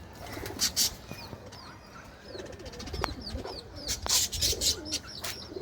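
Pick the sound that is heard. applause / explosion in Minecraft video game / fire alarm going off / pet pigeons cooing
pet pigeons cooing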